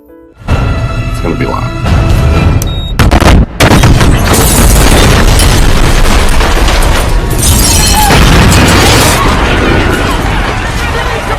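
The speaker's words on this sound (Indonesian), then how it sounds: "tiba-tiba sebuah ledakan bom mobil menghancurkan gedung tersebut" A massive film car bomb blast destroys a building, erupting into a long, loud roaring rumble of debris and fire that fills the whole scene, with voices shouting beneath it.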